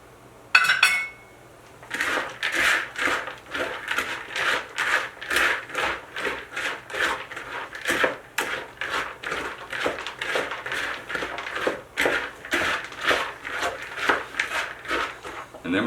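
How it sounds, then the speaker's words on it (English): Beaten egg is stirred into gluten-free cranberry walnut stuffing, producing a run of rhythmic scraping and soft clacking strokes of a utensil against a bowl, close and moderately loud. "Stir that in."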